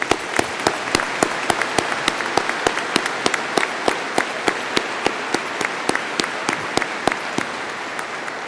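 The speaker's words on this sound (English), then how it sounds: "how about a round of applause?" Applause at a PSNS & IMF change of command ceremony, with crisp individual claps standing out in a fairly steady rhythm over a fuller background of clapping, lasting throughout.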